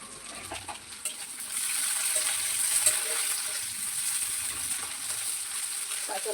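Chopped onion fries in a pan with a soft, steady sizzle that swells slightly after a moment, close but fairly quiet, with no talking.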